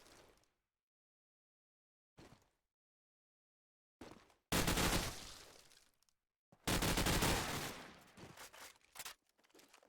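SMG gunfire rattles in Call of Duty 4 during a LAN match, with short isolated shots early and then two long, loud automatic bursts separated by a pause, tapering into scattered final rounds.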